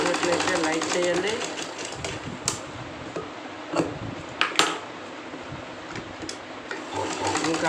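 A sewing machine stitches school shorts in bursts of fast mechanical whirring, broken by sharp clicks and clattering, with a voice talking over parts of it.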